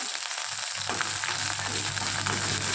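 Green chillies with cumin and curry leaves fry in hot oil for a gongura peanut chutney, giving a steady, close sizzle that continues throughout with no talk.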